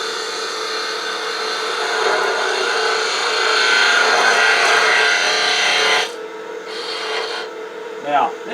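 A woodturning tool drawn along at a 45-degree angle slices wood on a lathe for a DIY gonk, a steady loud rasping cut lasting about six seconds, then lighter intermittent scraping.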